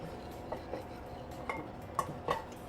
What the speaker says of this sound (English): just stir this into our